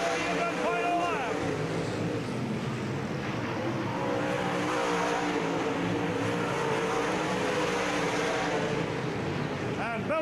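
Dirt late-model race cars on the final lap of a 1997 UMP Summer Nationals race at Davenport Speedway, a continuous loud roar of engines with shifting pitch beneath a commentator's voice.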